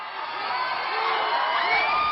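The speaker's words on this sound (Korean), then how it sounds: "여기저기서 들리는 함성 소리." At nine at night, a large crowd packs a three-way street junction before an idol group's guest show and sends up a continuous roar of cheering, whoops and high shouts that swells slightly toward the end.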